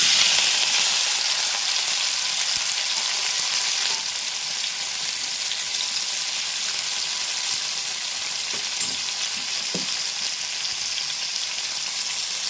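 Tomatoes fry in a pan with a continuous, fairly loud hissing sizzle that eases slightly after a few seconds. A couple of faint clicks sound near the end. There is no talking.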